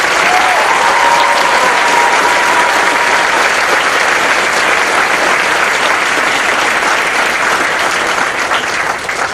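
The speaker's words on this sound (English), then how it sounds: "please join me in a big round of applause for their many" A large audience at a Marine Corps boot camp graduation claps steadily, a loud, dense wash of applause that holds at full strength for the whole stretch and eases slightly at the very end.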